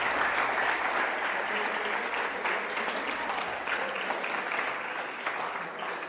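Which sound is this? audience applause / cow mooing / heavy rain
audience applause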